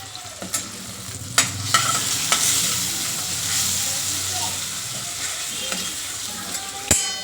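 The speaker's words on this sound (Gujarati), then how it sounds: "સરસ રીતે તેલ છૂટું પડે ત્યાં સુધી તેને ચડવા દેવાનું." Tomatoes fry in oil with turmeric, coriander-cumin powder and salt for a bottle gourd curry, giving a close, continuous sizzle with repeated sharp spoon scrapes and taps as the mixture is stirred.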